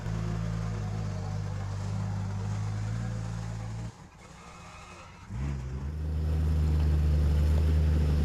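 A rebuilt, worn 4x4 winch pulls a vehicle over rocks on a steep Victorian High Country track. Its motor drones steadily, cuts out briefly, then starts again, with wind buffeting the microphone.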